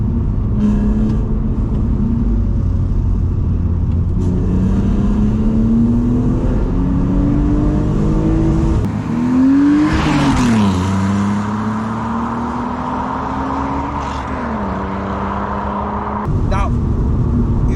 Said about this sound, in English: That little buzzing noise, and you're right, it's like VTEC.